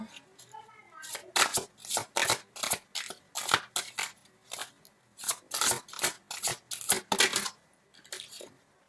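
Tarot cards are drawn and shuffled in a rapid run of crisp slaps and riffling snaps at steady pace, close up, with a few sharp clicks and no clear talk.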